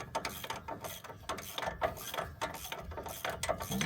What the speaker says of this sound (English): I'll just undo this with my ratchet. Okay, grab the air ratchet.